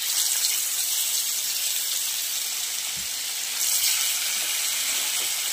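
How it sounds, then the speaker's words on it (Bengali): Fish frying in hot oil gives a steady, dense hiss of sizzling close by, with one soft knock partway through. "তো তরকারির জন্য মাছগুলো এবার তেলে ভেজে নেবো লাল লাল করে।"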